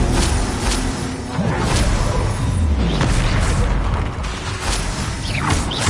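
Confringo fire spells burst in the Hogwarts Legacy video game, a dense, loud roar of booming blasts, whooshes and crackling impacts that keeps going without a break for several seconds.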